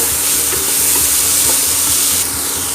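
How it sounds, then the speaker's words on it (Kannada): Tomatoes fry and hiss loudly in a hot pan for egg sukka, a dense continuous sizzle close up, with soft scraping and stirring strokes underneath and no voices. "ಮತ್ತೆ ಟೊಮೆಟೊ ಪಾಡ್ಗ ಸರಿ ಮಿಕ್ಸ್ ಮಾಡ್ತಗ"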